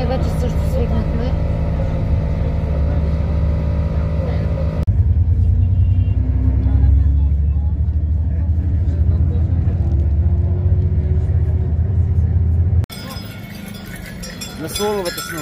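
Busy road traffic in India, a steady low rumble of engines and passing vehicles filling the scene, loud and continuous, with a sharp change in texture near the end as other sounds take over.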